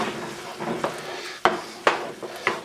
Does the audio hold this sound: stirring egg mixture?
yes